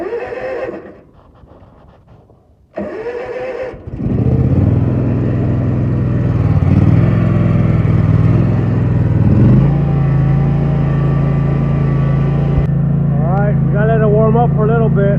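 A lawn mower engine starts in freezing cold, about 20 degrees. It stays quiet for a few seconds, then catches and settles into a loud, steady running drone that rises in pitch as it warms up. A voice is faintly audible near the end.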